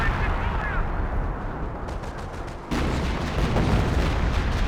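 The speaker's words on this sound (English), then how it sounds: "Oh no, it's officer artillery." An officer artillery barrage in the WWII strategy game Company of Heroes, a dense rumble of booming shell impacts and gunfire that briefly dips before surging louder again.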